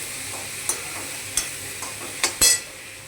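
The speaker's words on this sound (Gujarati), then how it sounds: "ચટણી માટે ટામેટાં, ડુંગળી બધું સાતળી દઉં છું" Tomatoes and onions sauté in a pan for chutney, giving a soft, steady sizzle. Several sharp spatula clicks and scrapes land at irregular moments, and there is no talking.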